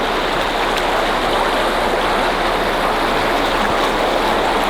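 Water gushes continuously from a broken water main flooding a residential Los Angeles street, a steady loud broadband rush with no pauses and no talking.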